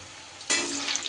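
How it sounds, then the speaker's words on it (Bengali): Cauliflower pieces deep frying in hot oil: a soft background hiss jumps to a loud, crackling sizzle about halfway through and keeps bubbling close by, with no speech. "সুন্দর করে একটু বেশ মুচমুচে করে ভেজে নিতে হবে"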